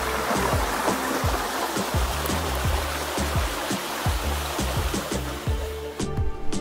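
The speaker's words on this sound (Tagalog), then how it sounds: "At ito nga po, oh, buhay yung sapa." A creek on a farm lot in Majayjay, Laguna, runs along a barangay road, swollen and murky in the rainy season; its water rushes in a steady, close, full-bodied wash with a low churning rumble and no voices.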